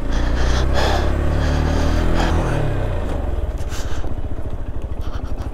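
Motorcycles ridden by a group of bikers at Marhau in Sirmaur, Himachal Pradesh, idling and revving nearby, with a lower engine drone giving way to a rapid, throbbing exhaust pulse.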